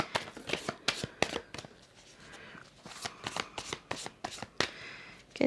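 A deck of tarot cards being shuffled by hand during a reading, with a quick run of crisp riffles and taps that pause briefly and then resume, close and fairly quiet with no talk.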